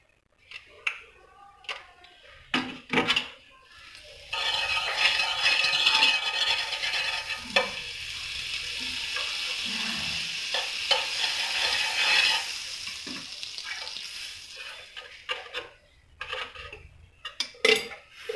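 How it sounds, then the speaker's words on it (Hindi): Butter sizzling on a hot pan over a low flame while making Dora cakes, a steady frying hiss in the middle stretch, framed by clinks and scrapes of utensils at the start and end. "अब हम थोड़ा बटर और लगाएंगे इस पर।"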